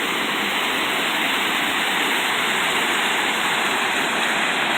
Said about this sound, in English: There's waterfalls all up through here.